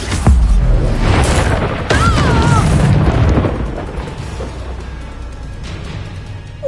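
A Bombarda blasting spell from a Harry Potter–style video game bursts in loud booming explosions, a sharp crack near the start and another heavy blast about two seconds in, with rumbling debris fading away afterward.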